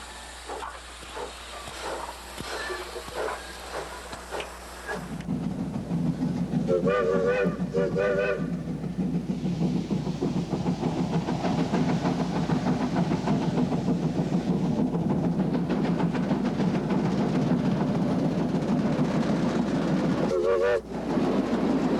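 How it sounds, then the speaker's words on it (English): A Mogul 1530 steam locomotive in Cuba pulls away with its train toward the mill. Quiet rumble at first, then loud steady steam chuffing and hiss, broken by a few short whistle blasts, the last near the end. "With the sun gleaming off its steel boiler jacket, Mogul 1530 starts for the mill."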